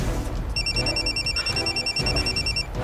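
A telephone rings with a steady electronic repeating trill, clear and continuous over a low background hum in an indoor family scene.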